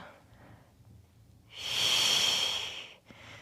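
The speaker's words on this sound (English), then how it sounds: "So inhale and exhale." A single long, airy exhale during a gentle Pilates exercise, a loud close hiss lasting about a second and a half after quieter breathing, then a short breath at the end.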